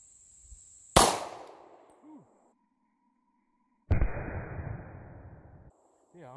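A SIG P239 .40 pistol fired into a bulletproof vest: one sharp, loud report, then a second heavy blast a few seconds later whose rumbling tail lasts nearly two seconds before cutting off.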